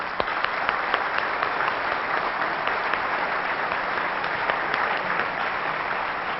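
An audience at a presentation breaks into sustained applause, dense steady clapping from many hands filling the room for several seconds, with no talk over it.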